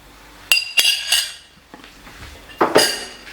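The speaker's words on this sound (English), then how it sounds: "So I'm just gonna simply scrape it out inside of this big bowl right here." Fruit is scraped out into a big bowl, giving several close, sharp clinks and scrapes of utensil against the bowl in short bursts separated by quiet pauses.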